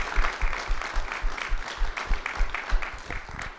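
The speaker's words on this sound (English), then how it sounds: "So give everyone a round of applause." An audience at an ideas competition event claps loudly, with distinct, fairly rhythmic hand claps that pulse steadily through the burst.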